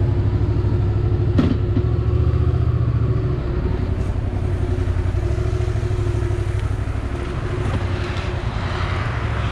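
A Yamaha MT07 motorcycle engine revving on the road in Shengjin, Albania, with a loud, steady, close engine drone that holds throughout and no talking.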